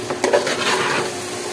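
Rice for bhuna khichuri fries in a pot with green chilies, giving a few quick stirring scrapes at the start and then a steady, close sizzle.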